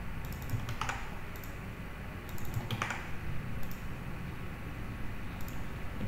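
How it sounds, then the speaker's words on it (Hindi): Fingers type steadily on a computer keyboard, with quick clusters of key clicks and short pauses over a constant background hiss, close and moderately loud, with no voices. "आपको टाइप कर देना है सब कुछ"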